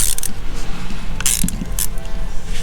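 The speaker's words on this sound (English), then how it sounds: "Oh, you can hear it's like now it's pressure released," Pressure hisses and clicks out as a screw is turned on the E-gear hydraulic system of a Lamborghini Aventador, a close, loud, continuous rush with scattered metallic ratcheting clicks and creaks.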